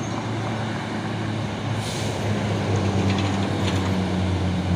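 A box truck rumbling past on the road with a steady heavy engine drone and tire noise, loud and close, swelling slightly as it goes by, with no talk.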